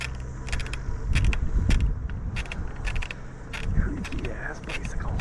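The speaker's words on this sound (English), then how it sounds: "Creaky ass bicycle." A bicycle creaks while being ridden, giving repeated dry squeaks and clicks with rattling mechanical noise over a low rolling rumble, close and fairly loud.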